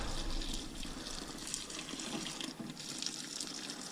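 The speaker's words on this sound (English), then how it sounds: "all I'm trying to do here is basically rinse the grains" Running water rinses a large bed of malted grains during homebrew beer mashing, a steady broad splashing flow heard close and continuous throughout, with no talking.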